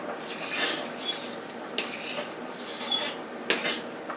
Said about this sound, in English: stir our pasta. Make sure we stir our pasta.